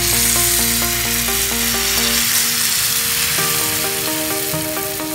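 Rava unniyappam batter poured into hot oil in an appam pan gives a continuous sizzle beneath a prominent musical melody.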